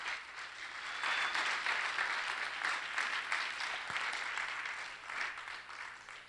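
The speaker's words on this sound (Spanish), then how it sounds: "Dale un fuerte aplauso al Dios." A church congregation applauding loudly, a dense, even wash of clapping that swells and holds for several seconds, distant and reverberant in a large hall.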